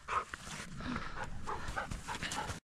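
Jämthund hunting dog during a moose hunt, giving quiet whimpers and short yips in quick uneven bursts, close by but faint, with no talk.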